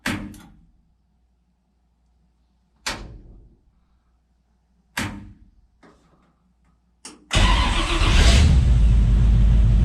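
NASCAR Tide race car being started: several separate hollow thunks and clicks with quiet gaps between them, then the engine catches and roars loudly and continuously to the end.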